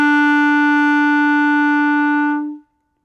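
A clarinet sounds a single sustained E, steady and clear for about two and a half seconds before stopping cleanly, played alone with no other sound.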